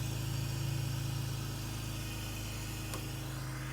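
A BMW E46 engine idles steadily and loudly on a cold start with a deep, even rumble and faint mechanical ticking, running alone without any voices.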